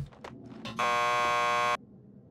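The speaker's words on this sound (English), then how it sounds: "Just press the buzzer by the door. Petersburg will buzz you in." Door buzzer at a police lockup in Max Payne 2, a single loud, steady electric buzz lasting about a second after a few soft footsteps or bumps.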